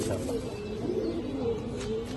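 A young pair of silver pigeons coos in low, soft, rolling murmurs that continue steadily, close by, with no voices over them.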